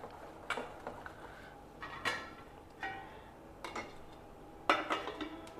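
A spoon scraping and clinking against a bowl while dosa batter is mixed with salt, sounding as sparse, soft taps and stirs spaced a second or so apart in a quiet kitchen.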